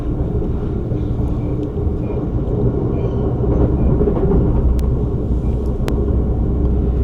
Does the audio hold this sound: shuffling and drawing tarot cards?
no